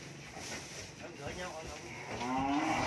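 Cattle on a cattle farm in Trảng Bàng, Tây Ninh moo, with one drawn-out, rising low call near the end over a murmur of background farm noise and faint voices.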